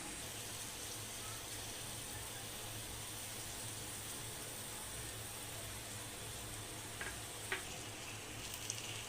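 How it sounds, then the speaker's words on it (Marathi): Chopped safflower greens and soaked moong dal stir-fried in a pan for a dry Maharashtrian vegetable dish, giving a steady, dense sizzle throughout with a couple of faint utensil clicks near the end. "आता यामध्ये चिरून ठेवलेली भाजी टाकून परतवून घेऊया"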